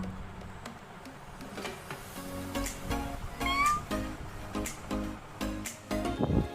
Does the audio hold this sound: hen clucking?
no